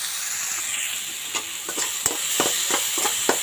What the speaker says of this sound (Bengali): ততক্ষণ এটা ভাজা হোক।